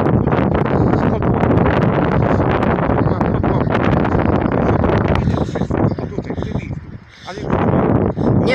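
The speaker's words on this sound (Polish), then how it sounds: "Wiatr nam troszkę utrudnia." Gusty wind buffets the microphone outdoors beside an old industrial building, a heavy continuous low rumble that briefly eases before returning, with people talking underneath.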